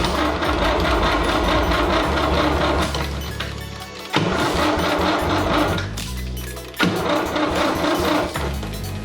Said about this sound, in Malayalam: പമ്പ് ചെയ്തുകൊണ്ടൊന്ന് സ്റ്റാർട്ട് ചെയ്ത് നോക്കുവാണ്.